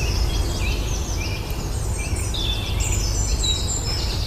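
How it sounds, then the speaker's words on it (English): Birdsong drifts through ancient woodland in Warwickshire, with several chirps and short calls overlapping at a moderate distance above a steady low outdoor rumble, no talking. "woodlands like this one in Warwickshire come alive with the sound of birds"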